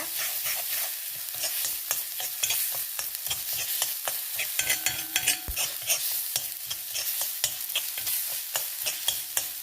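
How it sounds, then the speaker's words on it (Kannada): Spices are stirred and roasted in coconut oil in a pan for a Karavali-style dish, giving steady close sizzling with rapid scraping strokes of the spoon and no talking. "ಸ್ವಲ್ಪ ಚೂರು ಹೀಗೆ ಹಸಿ ವಾಸನೆ ಹೋಗುವಷ್ಟು ರೋಸ್ಟ್ ಮಾಡ್ಕೊಂಬ"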